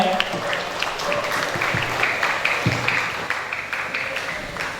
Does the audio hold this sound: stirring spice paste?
no